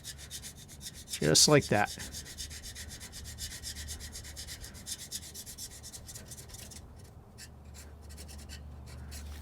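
Old dried gasket material on a GM 14-bolt 9.5-inch rear axle housing from an OBS Chevy truck is scraped off with a steady, faint rubbing hiss, and someone briefly speaks partway through.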